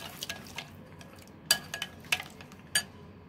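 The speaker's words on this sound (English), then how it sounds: "So let's mix them well." Paneer tikka marinade with mustard oil being stirred in a bowl: close, soft wet squelches punctuated by a handful of sharp spoon clinks against the bowl, with no talking.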